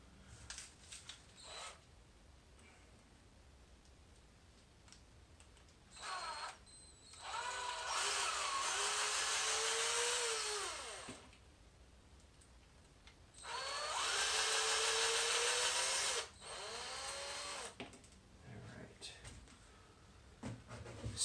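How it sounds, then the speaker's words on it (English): Small electric screwdriver whirring in two sustained bursts while unscrewing the servo mount of a Pro-Line PRO-MT 1/10 4x4 monster truck, with quieter clicks and handling noises between and around the runs. "This came out as one piece, so I'm going to unscrew this."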